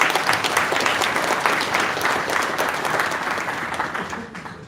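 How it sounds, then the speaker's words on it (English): An audience at a Bitcoin conference in Ireland applauds a speaker, a loud, dense burst of many hands clapping that gradually thins and fades toward the end. "So give Simon a round of applause"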